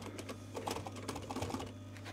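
An industrial sewing machine stitches a pocket onto a VW T5 Transporter seat cover, giving a short, steady mechanical whir with light rapid ticking and small bumps as the stitch is placed, fairly quiet and with no talking.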